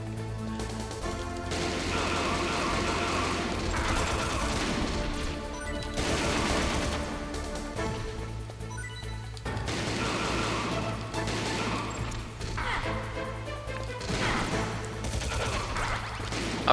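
Dense, sustained gunfire in the Metal Gear Solid video game: rapid automatic bursts and crashing impacts that continue loud and unbroken throughout, with no talk over them.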